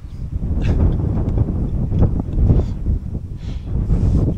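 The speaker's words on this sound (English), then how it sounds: "It's a bit windy today." Gusty wind buffets the microphone in uneven surges while paddling a kayak on open water, with soft splashes and rustling mixed into the blustery rush and no voices.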